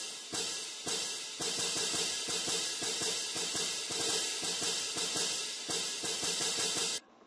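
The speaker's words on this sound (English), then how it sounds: "These are cymbals." Large hand-held cymbals with straps, crashed together repeatedly in a steady series of bright, sustained metallic crashes that wash into one another, then stopping suddenly.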